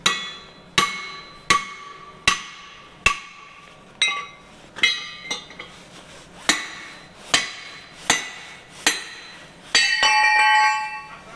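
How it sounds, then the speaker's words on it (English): A dozen or so sharp metallic strikes from a hammer on a big chisel, driving a bearing race out of a Chieftain main battle tank, ring out at a steady pace, each hit clanging brightly, ending in a brief rattling clatter. "No point having a big old hammer if you haven't got a big old chisel to go with it."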